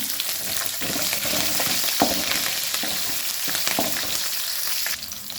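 Curry leaves and chili fry in oil for a sweet potato upkari, giving a dense crackling sizzle close up with a few sharper pops and stirring taps, and no talking.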